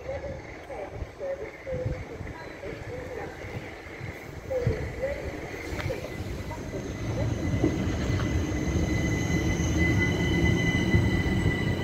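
Southeastern class 375 electric train at Sittingbourne station, a Dover service, rumbling and squealing on the rails as it moves through the platform, growing louder toward the end while people talk nearby.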